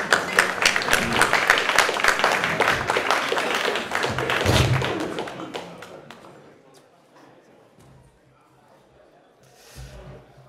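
Audience applause for a Woman International Master from Luxembourg joining a chess panel at a festival event: dense clapping from a crowd, loud and steady for about five seconds, then fading out, with a brief burst near the end.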